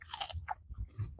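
Crunchy raw vegetables (lalapan) chewed up close during a meal, a few crisp, wet bites and crunches spaced irregularly with quiet gaps between.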